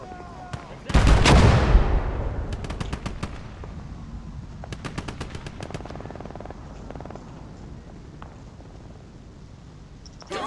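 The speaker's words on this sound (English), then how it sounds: "There's artillery over there." Artillery fire in a war video game: one heavy blast early, then bursts of rapid gunfire and scattered booms at a distance, with quieter stretches between.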